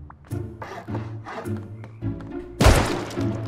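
Building foundations are placed in Rust, ending in a loud, heavy thunk with a crunchy burst, preceded by softer muffled tonal game sounds.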